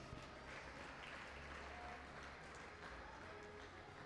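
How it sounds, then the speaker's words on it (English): An audience at a cross country championship medal ceremony applauds the medalists with faint, steady clapping from a distance that holds evenly throughout. "A round of applause for our medalists,"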